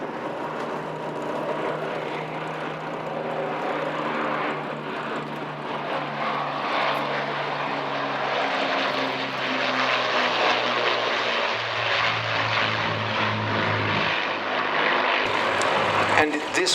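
A four-engined Second World War bomber powered by Merlin engines flies past at the Duxford Flying Legends airshow, its steady propeller drone loud and sustained throughout, with voices talking over it.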